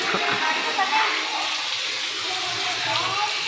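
Water is poured over a boy's head during a bath at home, a steady splashing rush running the whole time while voices talk over it.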